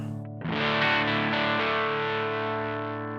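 A distorted electric guitar chord rings out loud and sustained through a Tym Guitars Black Mud overdrive pedal, struck once after a brief pick noise and left to decay slowly, with no voices.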